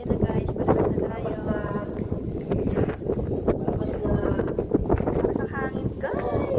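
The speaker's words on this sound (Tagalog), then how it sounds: "Lakas ang hangin guys." Strong, gusty wind buffets the microphone outdoors in a continuous roar, with people talking throughout.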